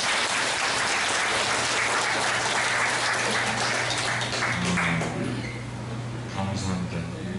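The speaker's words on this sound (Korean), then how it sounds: "박수." A church gathering in Jeju applauds in a dense, continuous burst of clapping from many people, fairly loud throughout, with some voices mixed in near the end.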